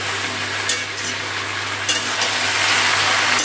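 Malabar spinach frying with vegetables, spices and a hilsa fish head in a pan over a raised gas flame, a loud steady sizzle with a few scraping stirs of a spatula.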